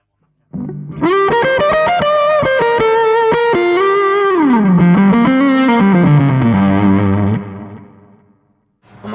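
An electric guitar through a B.K Butler Tube Driver pedal with a bias knob, boosted in the high end, rings out with harsh, bright distortion, playing a loud sustained phrase with a bend before fading.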